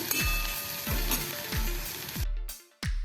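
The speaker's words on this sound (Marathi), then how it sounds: "आपण दोन हिरव्या मिरच्या बारीक चिरून घालूया आणि एक टेबलस्पून आपण आलं लसूण घेतलेलं आहे ते ठेचून घेतलेलं आहे ते पण परतूया" Green chillies and crushed ginger-garlic sautéing in a hot pan, a steady close sizzle broken by repeated scraping stirs, with a brief quiet moment near the end.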